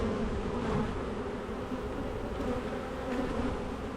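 Honey bees swarm over open frames in a long Langstroth hive, a dense, continuous close buzz holding steady throughout without talk.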